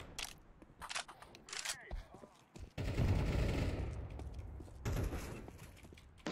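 Gunfire in Counter-Strike 2: several sharp shots early on, then a loud sustained burst of rapid firing mid-clip and another burst near the end, with game sounds between.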